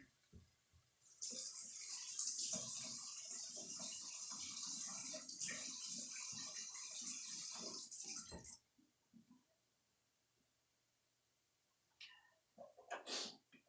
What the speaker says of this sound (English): let me wash my face real quick